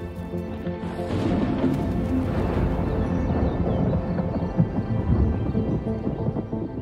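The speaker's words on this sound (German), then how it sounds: "Ein Unwetter hat die Arbeiten unterbrochen. Blitz und Donner" A heavy thunderstorm rumbles over a meadow, with a steady wash of rain and low, rolling thunder that swells and booms near the end; no voices.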